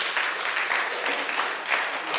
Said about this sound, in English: let's clap for Jason